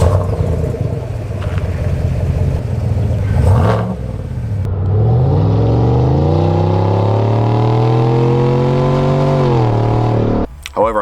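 A Chevy Silverado Trail Boss pickup with a muffler delete revs hard. The engine note climbs, holds a loud raspy drone for several seconds, then cuts off sharply near the end, close and with no talk over it.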